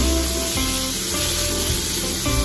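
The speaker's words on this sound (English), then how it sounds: "Put it in the same time. Just saute." Tomato and onion sizzle loudly in a hot pan, a steady close frying hiss with brief stirring shifts, cooked for a garlic shrimp dish.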